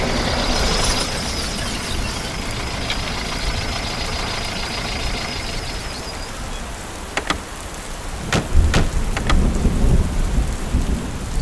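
Heavy rain pours steadily at night in Wayanad, a dense, close hiss with no voices, while sharp thunder cracks and rumbles break through near the end.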